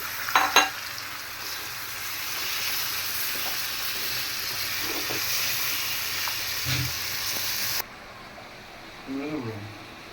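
Lentils and radish sizzle and scrape as they are stirred in a hot pan, a steady loud frying hiss that cuts out near the end, leaving a quieter background with a brief voice.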